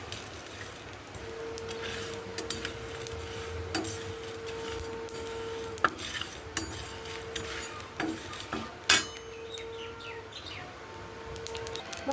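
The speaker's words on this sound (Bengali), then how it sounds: "এগুলো ভালোভাবে ভেজে নিতে হবে, এমনভাবে ভাজতে হবে যাতে দেখতে হবে যে পুড়ে না যায়।" Whole spices for a sour-sweet amra pickle are dry-stirred in a pan, a faint close rustle broken by irregular scrapes and clinks of a spoon against metal, while birds chirp quietly in the background.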